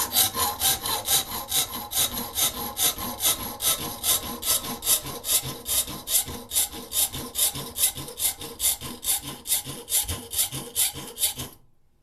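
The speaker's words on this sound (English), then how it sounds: "It's called a jab saw." A jab saw fitted with a hacksaw blade cuts with rapid, even back-and-forth strokes, a close, bright rasp pulsing steadily throughout before stopping at the end.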